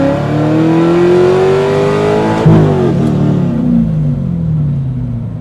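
Widebody C5 Corvette with an LS7 swap pulls hard through second gear, loud engine note climbing steadily, a brief burst as revs peak and drop at the shift, then rising again, close and dominant.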